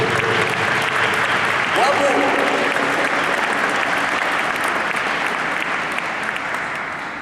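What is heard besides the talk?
audience applause in church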